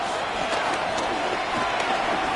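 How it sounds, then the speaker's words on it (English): A packed football stadium crowd roars loudly and steadily before a third-down snap, trying to force a false start, with a commentator talking over the din. "This crowd, they're trying to force a false start."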